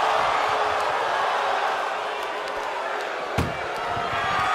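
An ambulance door slams shut once during a wrestling match, a sharp bang over steady arena crowd noise, with a commentator talking.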